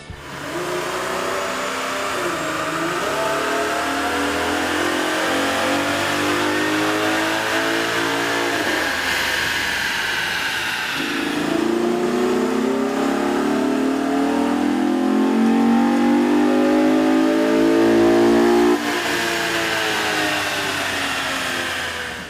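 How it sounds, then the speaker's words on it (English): A Chevrolet Camaro V6 with a K&N intake revs loudly and continuously on a dyno, its pitch climbing steadily through the gears, dropping, then rising again in a long sustained roar. "we ran the vehicle on the dyno to test sound comparison versus the stock intake"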